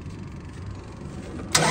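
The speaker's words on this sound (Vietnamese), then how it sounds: "Động cơ chỉ nháy khẽ cái nổ thôi ạ." A TCM 1.8-ton forklift engine turns over and catches near the end, a short burst of starting noise after a quiet idling background.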